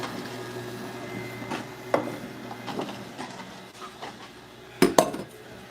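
Rusty lids on Ball jars clatter and clink in a kitchen, with faint scattered taps early on and two sharp, close metallic knocks near the end, no talk.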